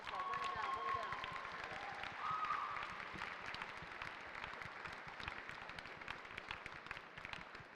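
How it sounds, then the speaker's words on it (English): Audience at a student hackathon closing ceremony applauding, dense clapping with some crowd noise and a few whistles, loudest early and tapering slightly, with voices mixed in. "Give them a round of applause, guys."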